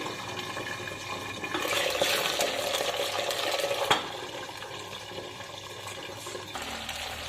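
Eggplants fry in hot oil in a pan, giving off a steady, loud, rushing sizzle that swells in the middle and carries on throughout, with no voices.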